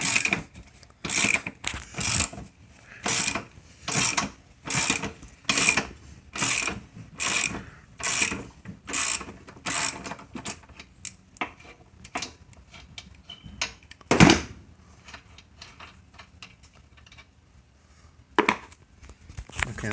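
A ratchet fitted with a 19 mm socket loosens a bolt on a Monster Moto 1000 minibike during a gas conversion, giving repeated bursts of sharp clicking, close and fairly loud, then slowing to a few scattered clicks.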